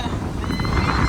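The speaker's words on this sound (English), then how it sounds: "You see the horse? He's making noise." A horse whinnies close by in an outdoor setting, a brief, rough, wavering call over steady background noise.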